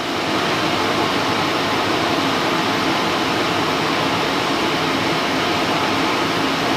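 A furnace blower runs steadily during a test fire, pushing warm air through ductwork with a constant, loud, broadband whoosh, and no talking.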